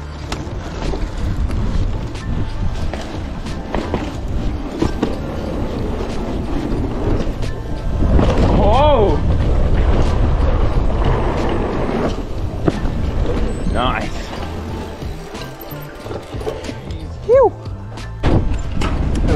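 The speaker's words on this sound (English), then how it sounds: "Oh my god, the wind." Strong wind buffets the microphone at a mountain bike park track, a steady loud roar of gusts throughout with brief voices cutting in.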